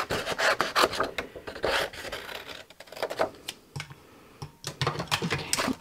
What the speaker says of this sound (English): I'm not measuring, put it this way, I'm just cutting.